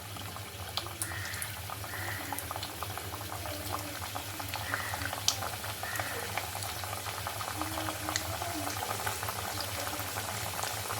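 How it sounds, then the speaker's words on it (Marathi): Mathri dough rounds fry in hot oil, a steady bubbling sizzle with fine crackles and small bursts of popping, close and fairly quiet, alone without voices. "चला आता आपण त्यांना तळूया तेल आपलं तापतच आलेलं आहे"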